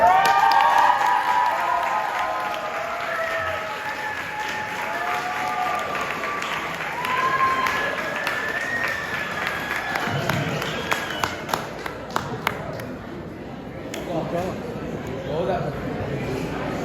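Banquet audience at a school sports banquet applauding and cheering a team, sustained crowd clapping with some cheers, voices speaking over it, then scattered individual claps near the end.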